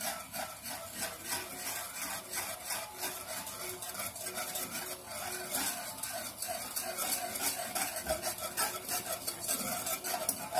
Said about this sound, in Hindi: साथ में इसको हिलाते रहेंगे ताकि गुठलियां ना बने।